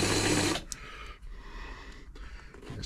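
A Singer 237 sewing machine with a freshly tightened belt whirs loudly for a moment, then drops to a quieter mechanical rumble with faint clicks.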